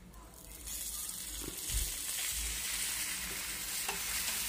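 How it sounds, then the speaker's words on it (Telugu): Dried red chillies, fenugreek seeds, ginger, green chillies and asafoetida fry in oil for a buttermilk curry tempering, giving a soft, steady sizzle and hiss that rises after a quieter start, with a few faint stirring knocks. "అలాగే ఎండుమిర్చి, మెంతులు, అల్లం, పచ్చిమిరపకాయలు కూడా వేసుకొని ఫ్రై చేసుకోవాలి."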